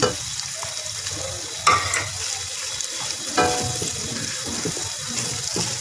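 Finely chopped carrots are stir-fried in a pan for chicken and vegetable fried rice. Sizzling hisses steadily under a few sharp spatula clanks against the metal.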